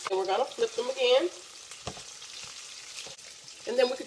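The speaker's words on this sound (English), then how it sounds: "I hate frying stuff in my house." Country fried steak sizzles and crackles steadily in a frying pan at home, a close, busy hiss with occasional clatters from flipping, and a few faint bursts of stirring or handling noise over it.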